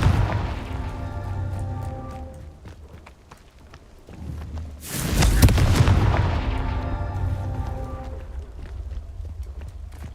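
Confringo spell explosion in the video game Hogwarts Legacy, a single loud burst and booming rumble midway through, set against galloping hoofbeats and game ambience.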